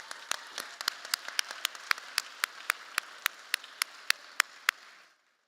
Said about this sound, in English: but let's give her a round of applause.